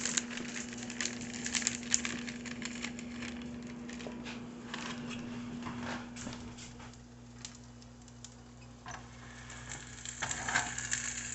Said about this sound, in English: I'm gonna put this in the skillet